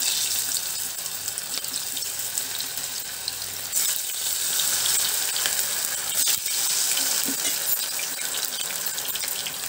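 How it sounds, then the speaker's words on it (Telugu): A batch of cauliflower pieces for gobi manchurian frying in hot oil, a loud, steady rushing sizzle with a few sharper crackles, close up and continuous. "మరో ట్రిప్ కూడా వేసి అదే విధంగా వేయించుకుందాము"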